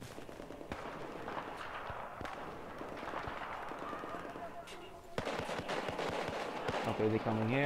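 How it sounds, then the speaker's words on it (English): A grenade blast and gunfire in Battlefield 4: scattered sharp shots crackle under talk, then a louder burst of explosion and rapid firing near the end. "let's throw the grenade"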